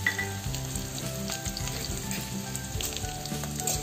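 Ginger and green chilies frying in a pan, a steady close sizzle and crackle with occasional stirring clinks, no talk over it.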